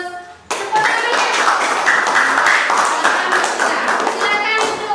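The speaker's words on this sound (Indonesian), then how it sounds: "Tepuk tangannya." A group in a classroom claps together in a burst of applause, steady and lively for several seconds before tapering off.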